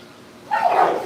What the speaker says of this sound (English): Them dogs are fighting over that bone.